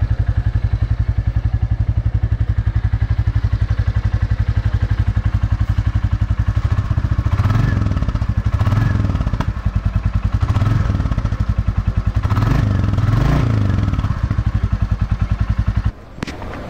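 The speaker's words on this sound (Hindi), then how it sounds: "अब सुनते हैं क्लासिक 350 न्यू जनरेशन का एग्जॉस्ट नॉट" A 2021 new-generation Royal Enfield Classic 350 single-cylinder motorcycle idles with a loud, steady thumping exhaust beat, rising in a few short throttle blips before cutting off near the end.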